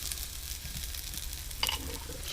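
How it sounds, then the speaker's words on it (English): Meat searing in a hot wok with garlic and chilli aboard a boat galley, a steady close sizzle and fry running throughout, with a brief sharper clatter of stirring near the end. "then the meat, and we'll sear the meat"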